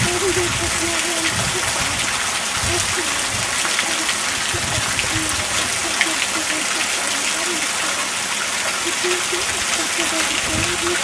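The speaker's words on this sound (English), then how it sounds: "A rare Florida waterfall." A small Florida waterfall gives a steady, broad rushing and splashing hiss that stays constant throughout, loud and close, while people talk over it now and then.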